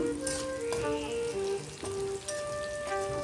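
Onions and dried red chillies, seeds removed, frying in a pan: a steady close crackling sizzle with stirring under it, continuous through the clip and with no voices.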